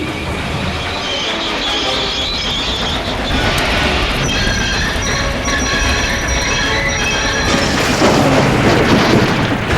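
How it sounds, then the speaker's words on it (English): Cartoon train brakes screaming as a train of tankers plunges into a tunnel, loud continuous metallic squeal and rumbling wheels with high-pitched shrieking tones layered over heavy rolling noise. "Brakes screaming, the cavalcade plunged in the tunnel"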